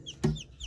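Rhode Island Red chicken giving a single short cluck, close and fairly soft, in a quiet backyard setting.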